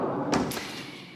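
A sliding barn door inside a house rolls along its track, giving a short soft thud followed by a brief scraping whoosh, close and fairly quiet, with no voices.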